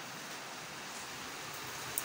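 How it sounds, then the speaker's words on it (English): Heavy rain falls outside in a steady, even hiss, quiet and unbroken, with no voices over it. "It's raining outside."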